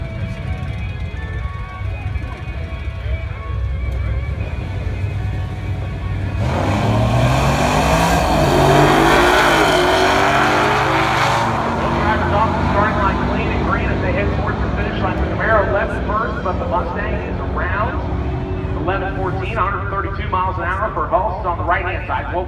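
A 2010 fifth-generation Chevrolet Camaro Super Sport launches down a drag strip, its engine swelling to a loud, roaring pass in the middle before fading, while an announcer talks throughout.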